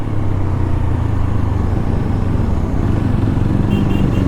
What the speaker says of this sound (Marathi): सुपर बाईक आली ना भाई, आवाजावरनच भाई वेगळी अशी स्माइल येते